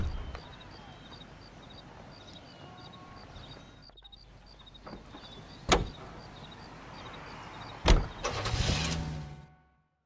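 Car driving in the video game L.A. Noire, a steady engine and road rumble running throughout with a couple of sharp door-like thumps and a brief swell of louder noise near the end.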